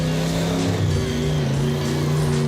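A blown, misfiring Ford Thunderbird engine drones loudly and steadily nearby, a rough, throbbing hum with uneven low pulses running throughout, no voices over it.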